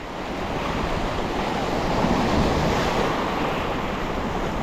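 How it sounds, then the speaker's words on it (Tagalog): Heavy surf roars continuously, a dense, loud wash of strong breaking sea waves against a barrier, with wind noise over the microphone. "Lakas ng alon."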